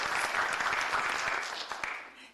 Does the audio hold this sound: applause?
yes